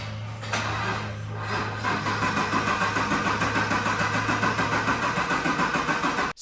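A C7 Corvette cranks without starting, the starter churning in a fast, steady rhythmic chug for several seconds before cutting off abruptly, loud and close.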